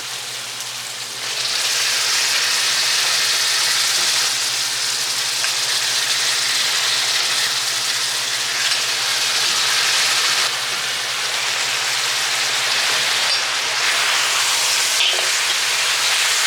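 Meat sizzles loudly in a hot pan as it goes in, and the bright, dense frying hiss then holds steady and close with only slight swells.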